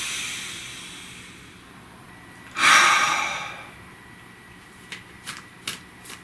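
A single deep, breathy inhale and exhale close to the microphone during a tarot card reading, followed by a few soft, crisp card clicks against a quiet background hiss.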